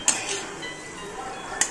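A spoon stirs cluster beans (gawar) cooked in a spicy Maggi masala in a pan: two light metallic clinks against the pan, with soft scraping and sizzling between them, close up.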